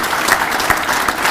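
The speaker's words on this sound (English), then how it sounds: "How about another round of applause for Ferzan Ahmed?" A seminar crowd gives Ferzan Ahmed another round of applause at a Lattes & Legislature event in Newton Falls, a loud, even wash of many hands clapping throughout.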